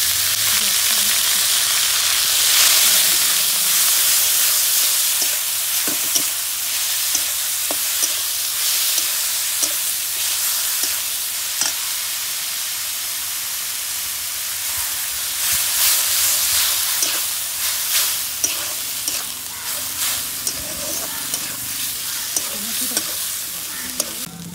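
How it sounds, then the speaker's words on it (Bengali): Chopped and grated onions sizzle steadily in hot oil with dried red chillies, bay leaves and whole garam masala for potoler dorma, a pointed gourd dish, with intermittent spoon scrapes and clicks of stirring throughout and no talk. "এবারে যে কুচনো কিছু পেঁয়াজ আর কিছু গ্রেট করে পেঁয়াজ দিয়ে দিচ্ছি।"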